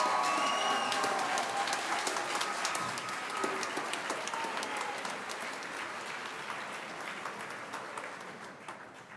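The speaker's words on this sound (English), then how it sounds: "Once again, please join me in giving this outstanding group of graduates one more round of applause." Audience at an OSUIT summer graduation ceremony gives the graduates a round of applause: a dense wash of many hands clapping, loud at first and gradually fading over several seconds.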